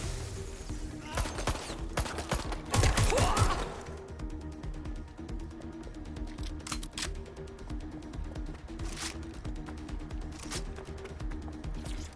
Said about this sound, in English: Taking fire! Shots fired!